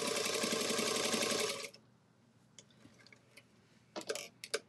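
A sewing machine quilting along drawn lines runs in a fast, loud mechanical whir for about a second and a half, then stops, leaving quiet room noise with a few faint clicks and handling sounds.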